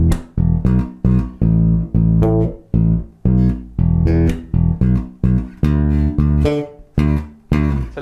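A soul funk groove pattern for a song's B section: a busy run of plucked, ringing notes in a steady syncopated rhythm, each attack fading quickly, played solo and close.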